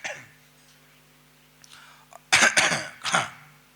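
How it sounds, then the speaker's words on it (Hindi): A man coughs and clears his throat with a few harsh, close bursts after a faint cough and a quiet pause, with a low steady hum under it. "खांसी खांसी चल रही है"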